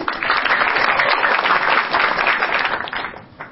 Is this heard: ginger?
no